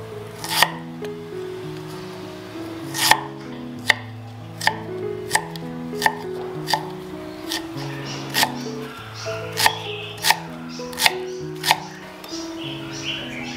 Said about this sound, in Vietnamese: em sử dụng một nhánh gừng và em sẽ thái nhỏ ra để em chiên cùng với tôm